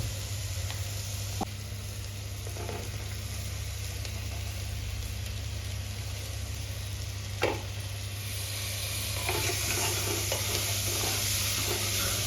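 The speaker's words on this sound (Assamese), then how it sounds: "তো এতিয়া ভালকৈ ভাজি ল'ম অকণমান" Soaked, washed rice tossed with dry fruits in a hot pan for yakhni pulao sizzles steadily while being stirred, with occasional scraping strokes over a constant low hum.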